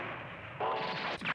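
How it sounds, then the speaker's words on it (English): A big cannon blast from the Gundam anime, a loud booming burst followed by a second sharp report and rumbling tail, alone with no talk. "I love the sound effect for the big cannons"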